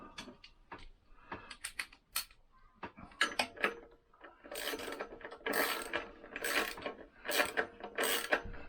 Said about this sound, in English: And then we've got our clamp to do up, which should be a number 8